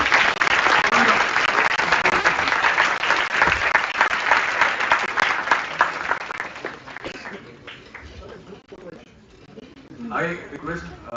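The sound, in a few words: audience round of applause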